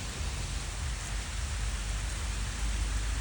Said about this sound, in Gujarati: વરસાદ આવે ઘડીક શાંતિથી અહીંયા ઊભા રહીએ